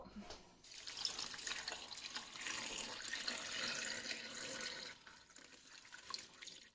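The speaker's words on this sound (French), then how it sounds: "Donc, je vais recouvrir d'eau." Water runs steadily into a cooking pot of salted curry being topped up, a continuous splashing pour that holds for several seconds and tapers off near the end, with no talking.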